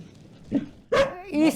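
A stray dog in Gori, once living at a bus station, lets out a short yip followed by two quick, close barks in rapid succession.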